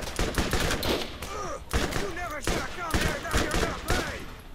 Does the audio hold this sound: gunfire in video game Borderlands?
yes